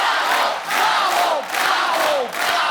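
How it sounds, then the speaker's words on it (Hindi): Studio audience of a Hindi TV comedy show cheering loudly, a dense crowd roar with shouts swelling in waves over about three seconds, no clear talk. "आप सबकी जोरदार तालियों के बीच मैं इनवाइट करना चाहूंगा"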